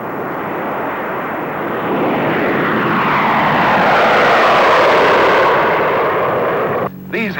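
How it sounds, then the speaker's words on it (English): B-36 and B-47 bomber aircraft fly during a nuclear test operation, a loud, sustained engine roar that swells and fades slightly, steady and close throughout, with a brief break near the end. "a B-36 and a B-47 will be in the air"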